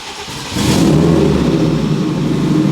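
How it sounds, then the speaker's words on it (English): A built car running on E85 cold-starts with a short crank before the engine catches and rises into a loud, steady idle close by, with no talk over it. "E85, cold start for the boys in the morning, it takes a little bit longer than a few seconds"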